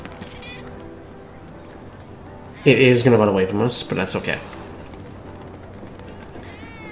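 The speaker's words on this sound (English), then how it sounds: "So the white cat is the one we're looking for in this case." A white cat meows in Final Fantasy VII Remake, giving one drawn-out, fairly loud meow and then a few shorter cries. Someone talks before and over it.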